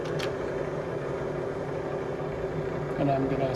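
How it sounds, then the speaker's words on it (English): Drill starting a hole in metal held in a vise for milling a ball peen hammer head, the point chattering to give a rough, buzzing hum with a steady low rumble, and a slight rise in pitch near the end. "So it's gonna not sound the greatest as it's starting because the point of my drill is kind of chattering a little bit in that hole"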